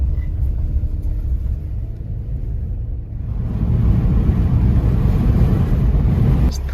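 A car on a long road trip, giving a steady low rumble of engine and road noise that swells louder about halfway through and keeps going with no talking.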